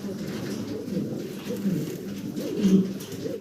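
A pair of fancy pigeons coos softly and repeatedly at close range, low throaty calls rising and falling in a steady rhythm over a faint background murmur.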